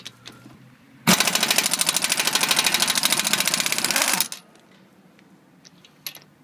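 An Earthquake air impact wrench run in reverse at 90 psi from a 26-gallon Craftsman compressor, a loud, close, rapid hammering rattle lasting about three seconds, then brief hissing and clicks.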